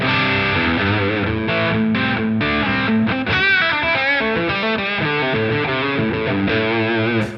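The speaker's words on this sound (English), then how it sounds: "Moving on to our trusty old Ibanez Tube Screamer." Electric guitar through a Helix modeled Ibanez Tube Screamer overdrive, loud crunchy chords and short riffs played alone with brief pauses between phrases.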